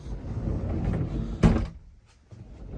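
A curved sliding bathroom door in a motorhome rolls along its track with a low rumble, ending in a sharp knock as it stops, then a brief quiet pause before a softer movement.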